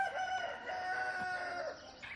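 Backyard homestead chickens with a rooster crowing, a long drawn-out cock-a-doodle-doo, moderately close, over softer clucking.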